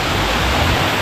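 Kakawayan Falls pours in a loud, dense, steady rush of falling water, heard up close with no other sounds.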